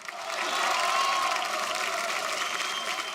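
A studio audience at an Antakshari League singing reality TV show bursts into sustained applause, swelling quickly and holding as a steady crowd clap, with faint cheering and music underneath.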